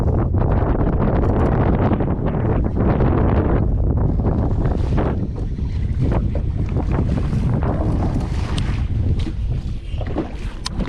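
Strong wind roars continuously across open water near the Gulf shore, buffeting the microphone with loud gusty rumble and water noise throughout, with no talking.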